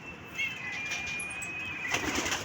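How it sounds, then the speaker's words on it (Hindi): Pigeons are let out and take flight, a fluttering burst of flapping wings with soft coos and bird calls close by, over a steady outdoor background hum and no talk. "ये कबूतर निकाल के अभी उड़ाने लगे हैं"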